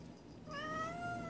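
A cat lets out a single drawn-out meow, faint and close in a quiet indoor room, with no talking over it.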